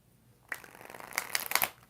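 Tarot deck being shuffled after a quiet start, riffling and slapping card sounds building in a quick irregular run of crisp, close rustles and flicks.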